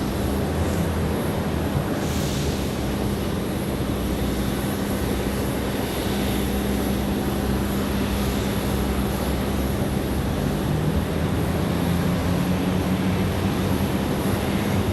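Southwest Airlines jet on approach to Raleigh-Durham International Airport, a steady, continuous engine roar heard from outdoors with a constant broadband rush throughout.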